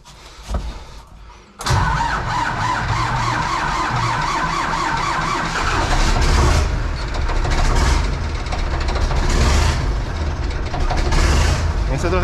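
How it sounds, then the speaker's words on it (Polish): A Zetor 5211 tractor engine cranks briefly and catches with a sudden roar, then settles into a loud, steady, close diesel idle while people talk nearby. "Myślę, że, myślę, że powinien zapalić."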